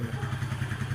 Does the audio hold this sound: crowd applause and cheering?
no